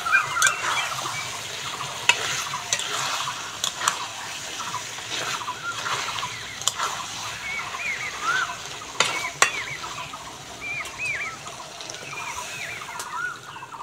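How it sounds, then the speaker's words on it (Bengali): Mutton curry being stirred and fried in oil, a steady sizzle with scraping stirring strokes throughout, under faint background sound. "মটনটা ভালো করে কষে নিয়েছি দেখো মটন থেকে তেল ছেড়ে দিয়েছে"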